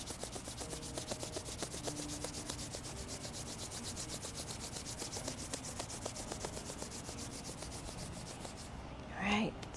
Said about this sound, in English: Taking your hands together, rubbing palms together.